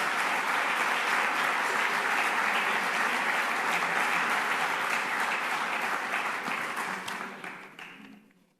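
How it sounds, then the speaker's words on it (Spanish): Sustained audience applause at a forum event in La Rioja welcoming Nueva Rioja's board chairman Francisco Achiaga López, a dense steady wash of many hands that holds for several seconds and then fades out near the end. "les pido un aplauso para don Francisco Achiaga López, presidente del Consejo de Administración de Nueva Rioja"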